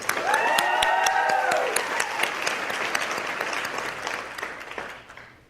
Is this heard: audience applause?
yes